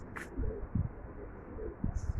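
Pigeons coo softly at a rooftop pigeon loft, a few low rounded coos spaced across the moment over a faint hiss, with brief higher chirps near the start and end.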